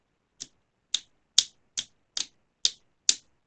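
Seven crisp finger snaps in a steady, evenly spaced rhythm, sharp and close, with silence between them.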